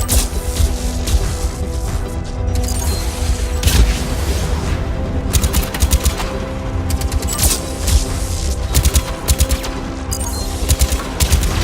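Automatic turret gunfire rattles in the Mass Effect video game, dense bursts of rapid shots with heavy booms and impacts, loud and continuous.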